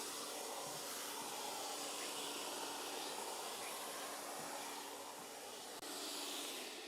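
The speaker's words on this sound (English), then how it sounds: "The next thing you need to do is vacuum out all the old dirt." Vacuum cleaner sucking old dirt out of a car trunk during restoration of a 1969 Camaro, a constant close hiss and whoosh with slight shifts in tone as the nozzle moves, no talking.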